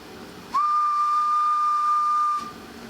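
A Palomar Power Deluxe 35A base linear amplifier driving a CB radio gives off a loud, steady whistling tone that starts abruptly, holds for about two seconds and cuts off cleanly.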